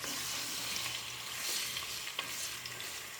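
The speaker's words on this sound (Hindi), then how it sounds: "पहले हम चिकन को फ्राई ही करेंगे" Chicken frying over high heat in a karahi, a dense continuous sizzle with soft scraping as it is stirred, close and steady, with no one speaking.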